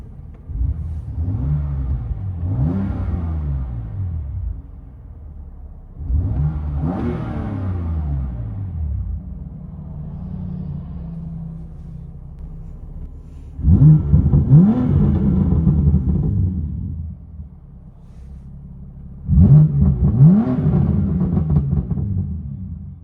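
A 2019 BMW M2 Competition's 3.0-litre twin-turbo inline-six heard from inside the cabin, with several muffled revs swelling and dropping over a low steady idle rumble, the last two bursts louder and sharper.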